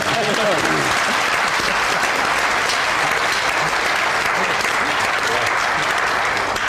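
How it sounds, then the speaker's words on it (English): A television studio audience applauds during an interview with a band, with loud, dense clapping filling the whole stretch and a voice briefly heard at the start. "A round of applause."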